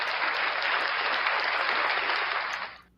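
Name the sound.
applause for a special guest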